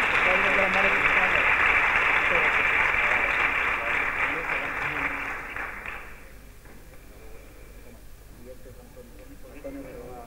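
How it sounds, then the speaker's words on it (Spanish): Audience applause at a 2021 fair poster and book presentation honoring Dolores Otero: a dense, steady wash of clapping for about six seconds, then fading to a quiet room with faint murmuring. "un aplauso para él"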